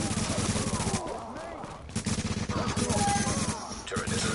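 An automatic turret in the online shooter The Division fires in fast, regular bursts with steady rattling rhythm, pausing briefly between strings, loud and close amid game noise.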